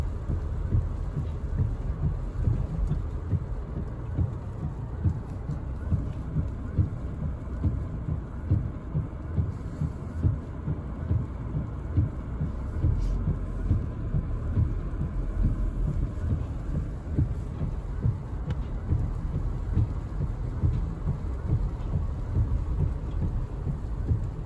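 Steady rain falls with a constant low rumble and patter that goes on for the whole stretch, with no voices.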